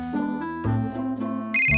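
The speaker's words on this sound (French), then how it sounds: "Le téléphone sonne, quelqu'un appelle petit singe." A telephone rings in a short electronic ringtone, a few quick bright tones ending in a rapid repeated burst, loud and close with no talking.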